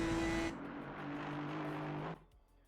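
A BMW GT4 race car in a racing video game pulls out of the pits, its exhaust note shifting between steady tones before fading away, fairly quiet, with no talking.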